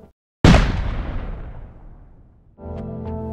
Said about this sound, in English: you are launched out of the station by an hydraulic launch system